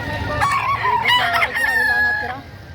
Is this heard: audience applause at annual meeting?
no